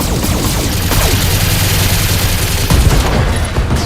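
Mechs in the BattleTech video game unleash all weapons at once, a dense, loud fusillade of overlapping gunfire and booming impacts rolling continuously, with a heavier burst near the end.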